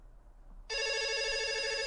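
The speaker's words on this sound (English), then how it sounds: "I swear I just heard the phone ring." A telephone bell starts ringing abruptly and keeps on loudly and steadily, close by in a quiet room with no talking.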